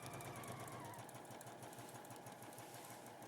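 A sewing machine running flat out on its fastest setting, a steady rapid stitching whir with a quick mechanical pulse, continuous and fairly faint throughout.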